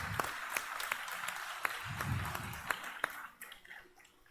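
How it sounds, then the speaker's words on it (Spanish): Church congregation applauding the Lord during a service, a moderate wash of scattered clapping with sharp individual claps standing out, fairly steady for a few seconds before thinning out. "Desde ahora, denle un aplauso al Señor."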